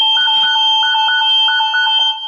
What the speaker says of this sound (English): the alarm goes off and it's so loud